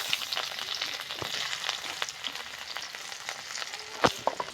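Dried chillies and onion sizzle and fry in hot oil in a wok, a steady dense crackle with scattered sharper pops, close and fairly loud with no talking.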